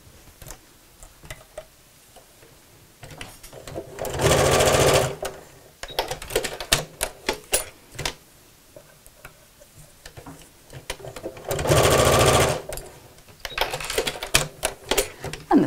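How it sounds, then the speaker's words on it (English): A sewing machine stitches close along the edge of a tote bag seam in two bursts of rapid, steady whirring chatter, separated by quieter clicks and fabric handling. "just sew quite close to the edge"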